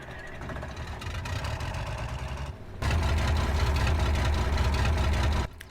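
Small tractor engine idling in Farming Simulator 22, a steady low rumble that steps up louder partway through and holds at a constant drone before cutting off near the end, with no talk.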